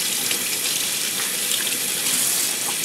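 Steady, close gush of running tap water over zucchini being washed with vinegar in a sink, continuous and fairly loud with no talking.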